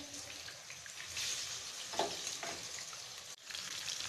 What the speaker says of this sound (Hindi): प्याज को हम गोल्डन ब्राउन फ्राई करेंगे मीडियम फ्लेम पे